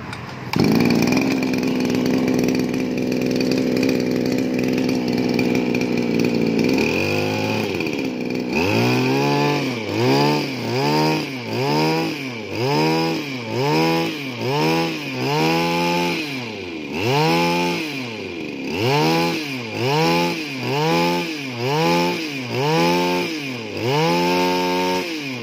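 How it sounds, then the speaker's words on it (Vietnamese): A two-stroke engine on a backpack sprayer idles steadily, then is revved in a long series of rhythmic throttle bursts, loud and close, with no talking. "giờ mình chỉ nổ máy cho anh em nghe thôi ha"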